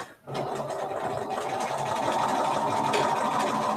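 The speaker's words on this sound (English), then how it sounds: "This is like sculpting with your sewing machine." A steady mechanical whirr of a sewing machine stitching continuously, close by, with a brief pause at the start and no talking.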